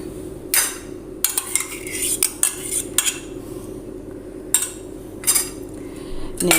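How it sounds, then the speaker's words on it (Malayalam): A spoon beats a ground lentil batter into curd in a bowl for curd vada, giving irregular bursts of sharp metal clinks and scraping against the dish with quiet gaps in between. "നന്നായിട്ടൊന്ന് ബീറ്റ് ചെയ്തെടുക്കാം"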